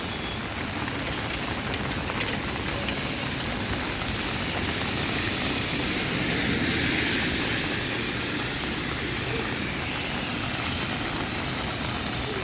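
Heavy pouring rain falls in Agargaon, Dhaka, a steady, dense broadband hiss that holds at even loudness for the whole stretch, with no voices.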